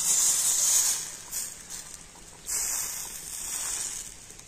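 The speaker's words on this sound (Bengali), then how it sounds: "আর এবার আমি এখান থেকে 1 হাতা ব্যাটার নিয়ে নেব, নিয়ে ফ্রাই প্যানটার মধ্যে দিয়ে দেব," Rice batter for chakli pitha sizzles in a frying pan, with a bright hiss that swells as the batter hits and again midway as the pan is swirled, then settles into a steady softer crackle, close and with no talk.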